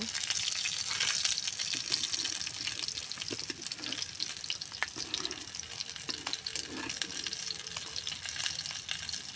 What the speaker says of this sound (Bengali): আমাদের মাছটা আরেক পাশে ভাজা হয়ে গেছে